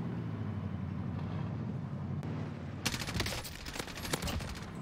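Gunfire during a gunfight in the video game Warzone: quiet rumbling background, then a burst of rapid shots in the second half, fairly faint and with no talk over it.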